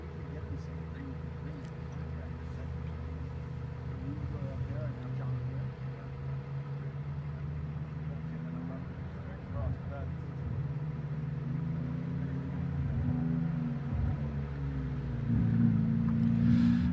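Several Ferrari Challenge race car engines idle and rev at low pitch at Thermal circuit before heading out for qualifying, building in intensity toward the end, with a background hum and a brief rising tone.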